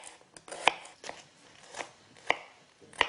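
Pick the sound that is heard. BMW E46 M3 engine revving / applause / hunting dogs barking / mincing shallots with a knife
mincing shallots with a knife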